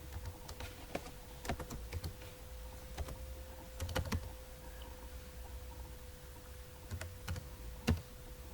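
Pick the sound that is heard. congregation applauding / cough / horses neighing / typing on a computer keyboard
typing on a computer keyboard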